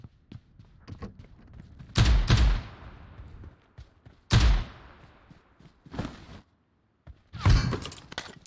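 Bursts of AK rifle gunfire in PUBG Mobile Erangel, several sharp loud shots spaced a second or two apart with brief ringing tails.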